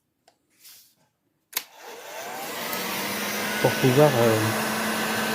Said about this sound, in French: je vais chauffer un peu l'endroit là avec un décapeur thermique